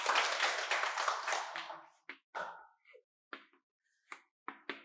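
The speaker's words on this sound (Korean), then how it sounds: "큰 박수 부탁드립니다." An audience applauds together for about two seconds, then the clapping breaks into a few scattered, isolated claps before stopping.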